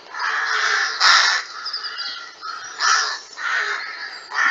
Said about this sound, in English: and the rooks come back